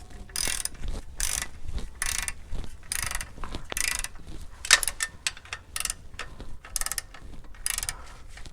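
A hand ratchet clicks in short repeated strokes while transfer case bolts on a Lexus LX570 are tightened to a low torque, with close, crisp bursts of ratcheting separated by brief pauses.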